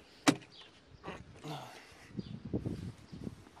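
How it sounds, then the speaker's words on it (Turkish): A Tofaş car under restoration has its door opened: one sharp latch click near the start, then soft thumps and rustling while people talk nearby. "Kapıyı açsana."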